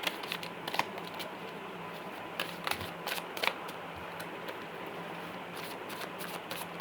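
Tarot cards being shuffled by hand, soft rapid riffling and papery flicks in irregular bursts, faint and close with no talk.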